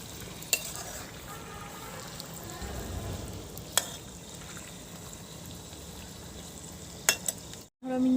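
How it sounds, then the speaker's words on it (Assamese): Meat fries in a pan over a fire, with a steady soft sizzle and scraping stir sounds running throughout, plus a few sharp clicks and knocks along the way. "মিনিটমান মাংসটো ভজা হ'ব লাগিব। এইখিনি মাংসখিনি অকণমান লৰাই দিওঁ"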